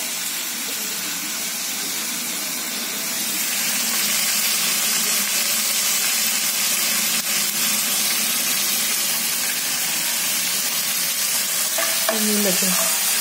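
Green chillies stuffed with salt and mixed with garlic fry in hot oil with a steady, close sizzle that grows louder after a few seconds while being stirred, and a few light clinks sound near the end; nobody speaks.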